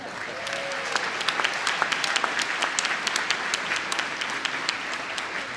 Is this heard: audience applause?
yes